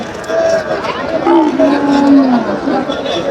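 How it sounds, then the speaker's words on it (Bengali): Cattle, including Sahiwal cattle, lowing amid a busy livestock market, with several moos rising over crowd chatter and people talking nearby. "প্রচুর পরিমাণে গরু আছে"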